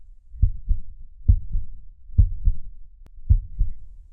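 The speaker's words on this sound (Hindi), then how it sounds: "प्रिया का दिल तेजी से धड़कने लगा।" Fast heartbeat sound effect in a Hindi horror story: four paired lub-dub thumps in a steady, quick rhythm, deep and close, with no voices over them.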